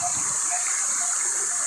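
River water flowing behind a house in Surigao, a steady broad rushing wash that fills the whole clip, heard up close with no one talking.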